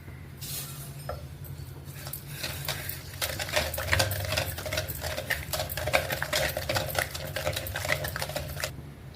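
Cooked moong dal is mashed in a pot with quick, repeated soft scraping and tapping strokes. The sound is faint, over a low steady hum.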